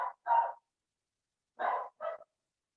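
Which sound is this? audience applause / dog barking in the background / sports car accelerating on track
dog barking in the background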